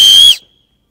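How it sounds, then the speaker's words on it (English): A single piercing, high-pitched blast from a 3D-printed whistle, loud and close, holding briefly before cutting off into silence. "And then Will also made a whistle. Does this actually work?"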